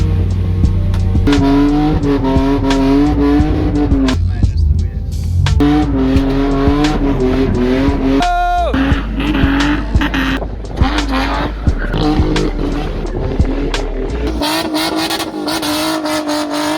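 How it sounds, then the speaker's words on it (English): A BMW 318ti spin car with a multivalve engine swap revs and whines with squealing tires, shifting pitch repeatedly, while a voice briefly exclaims. "Have another spin car pulling up."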